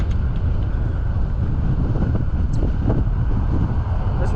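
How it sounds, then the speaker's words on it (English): Wind buffets the microphone during a bike ride outdoors, a constant loud rumbling roar with no break and no talk over it. "This wind as well."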